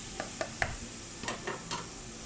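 Cashew nuts sizzling in coconut oil in a pan while being stirred, with a few soft scraping clicks of the stirring utensil over a steady, quiet hiss.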